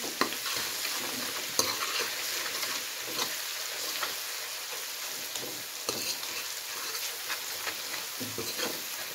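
Steady crackling sizzle of garlic frying in hot oil for palak methi saag, with occasional stirring scrapes and small pops throughout.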